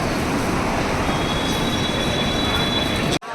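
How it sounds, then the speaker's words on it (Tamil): Steady broadband rumble of a slow ordinary passenger train in China, heard from inside a coach with a faint high wheel squeal, continuous and loud before cutting off abruptly at the end. "இப்போ இதாங்க நார்மல் ட்ரெயின்."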